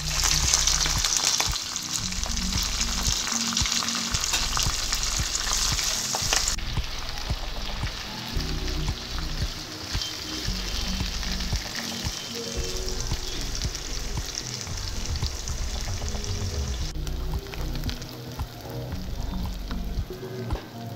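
Onion pieces frying in hot oil with cumin, mustard seeds, dried and green chillies and curry leaves, a dense continuous crackling sizzle with stirring scrapes throughout, loud and close.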